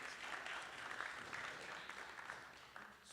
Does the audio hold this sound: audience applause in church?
yes